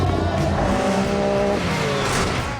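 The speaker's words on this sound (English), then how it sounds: "I made sure to gun it as I pulled out of the corner" A Can-Am Baja Bug conversion off-roader roars loudly while accelerating out of a corner, its engine note climbing steadily before easing off slightly near the end, with no voices.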